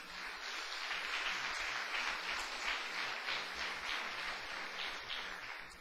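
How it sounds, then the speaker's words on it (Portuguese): A church congregation claps together for several seconds, a soft, somewhat distant patter of many hands with a gentle rhythmic pulse, fairly quiet throughout. "Pode dar uma salva de palmas para o Senhor?"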